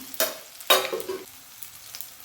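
Green chillies, curry leaves and turmeric sizzle in hot oil for a simple sabudana tempering, with a few loud bursts of frying and stirring that fade to a soft crackle.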